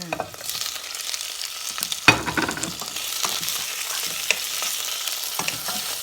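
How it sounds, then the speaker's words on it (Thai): Fresh shrimp sizzle steadily in a hot frying pan for spaghetti, a continuous close crackle with a sharp clatter near the middle and light stirring throughout. "จากนั้นเราก็ใส่กุ้งสดเข้าไปเลยจ้า"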